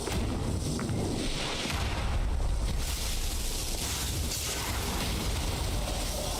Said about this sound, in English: we're respecting the cannon fire that's there.